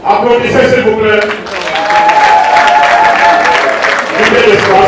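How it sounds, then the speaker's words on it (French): A crowd applauds steadily at a midwives' swearing-in ceremony, the clapping loud and continuous while voices carry over it. "Applaudissez s'il vous plaît."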